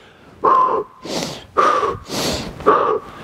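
Forceful rhythmic breathing during a CrossFit exercise demonstration: three sharp, loud breath pairs, each a short nasal snort followed by a broad hissing exhale, close to the mic, with no talking.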